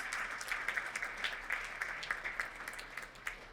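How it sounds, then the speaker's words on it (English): Audience at a city chamber of commerce event applauds special guests, a steady wash of clapping from many hands heard at moderate distance for a few seconds. "Let's give all of our special guests a huge applause."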